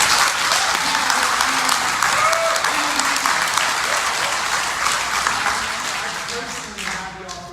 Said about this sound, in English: give yourselves a big applause